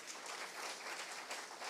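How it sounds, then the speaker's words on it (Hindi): Audience clapping at a meditation insight session, a brief, fairly dense burst of hands that stays soft and distant throughout. "उनके लिए तालियां हो जाए।"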